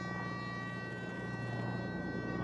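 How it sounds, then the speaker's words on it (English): An air raid siren wails in a World War II German campaign video game, a steady sustained tone holding over a low droning background for the whole stretch, fairly faint and without speech. "Oh, we have a siren, air raid siren,"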